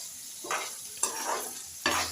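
Ridge gourd peel, green chillies and tomatoes fry in a pan, giving a steady sizzle with three louder bursts as ingredients are stirred or added, close and with no talking.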